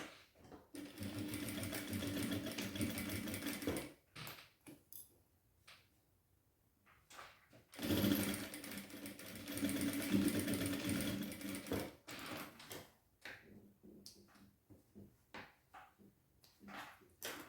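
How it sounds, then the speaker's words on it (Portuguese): A sewing machine runs in two long bursts stitching a safety seam on a diaper bag strap, each run steady and close, with quiet handling noises and pauses between. "a gente passa uma costura de segurança aqui"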